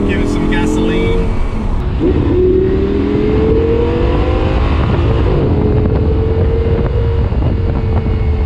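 Audi R8 V10 accelerating hard on a quiet road after leaving town, its loud engine note climbing steadily through the gears, with wind roar and a steady rumble close to the microphone throughout.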